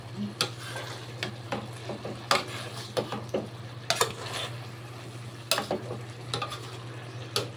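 Beef and mushrooms cooking in a pan, with a low steady sizzle under repeated sharp scrapes and clicks of a spoon stirring against the metal, close up with no talking.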